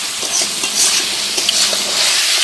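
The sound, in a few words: mutton cooking on a wood-fired clay stove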